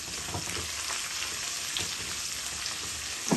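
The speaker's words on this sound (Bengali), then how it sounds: "যখন রসুনগুলা ভাজা ভাজা হয়ে যাচ্ছে" Garlic fries in hot oil in a steady, close sizzle with faint stirring scrapes and occasional small pops, continuous and fairly loud with no voices.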